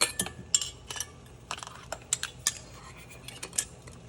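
Metal clinks and light taps ring out as a flat lid and screw ring go onto a glass jar of dill pickles, a series of small sharp clicks spaced irregularly over a quiet background with no voices.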